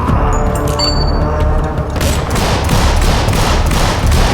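A nine-bang flashbang from the tactical shooter Door Kickers 2 goes off in a rapid string of loud, close thuds and cracks, its bursts running together over a dense, steady din.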